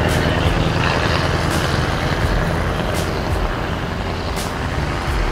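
An ALS Super bus engine idles in a steady, smooth rumble beside a road, mixed with a constant wash of passing traffic noise and faint hiss, with no voices.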